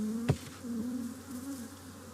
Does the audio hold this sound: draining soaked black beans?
no